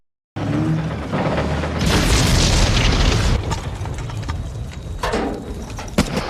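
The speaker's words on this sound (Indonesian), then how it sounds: "tiba-tiba tank tersebut meledak" A tank explodes with a loud burst, followed by a long rumbling, crackling roar that slowly settles into debris and ambient battle noise in a World War II setting.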